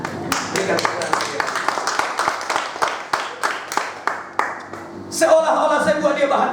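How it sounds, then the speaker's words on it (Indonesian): A church congregation applauding during a sermon. A run of quick, sharp claps comes close and fairly loud, partly under a speaking voice, with a brief burst of voices near the end. "Berikan tepuk tangan."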